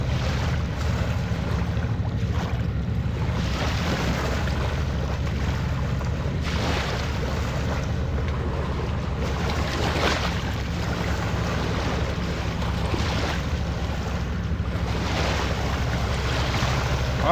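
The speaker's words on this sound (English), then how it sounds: "Y'all hear them waves?" Waves on a Kentucky river at night during catfishing, a continuous low wash of water with soft surges, mixed with wind buffeting the microphone and a faint distant boat rumble.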